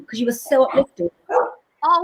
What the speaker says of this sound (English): Is my dog really annoying?